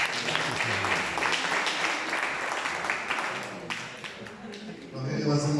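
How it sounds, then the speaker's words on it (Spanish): A church congregation claps during an evangelical service, a sustained round of applause mixed with voices, then the clapping thins out as speech and a louder voice take over near the end. "Un aplauso para Rogelio."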